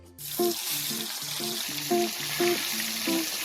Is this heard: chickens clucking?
no